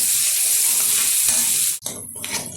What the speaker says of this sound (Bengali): পেঁয়াজটা খুব ভালোভাবে ভেজে নিতে হবে তেলের সাথে